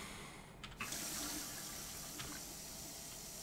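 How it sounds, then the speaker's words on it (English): A shower runs in the video game Prey, a steady hissing spray of water that switches on with a brief clunk and continues evenly, fairly close. "Oh, we gotta take a shower before we go."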